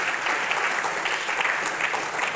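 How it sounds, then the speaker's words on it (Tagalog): A church congregation claps together in steady, dense applause, close and even throughout, with no voices over it. "dagdagan pa natin yung palakpak na yan"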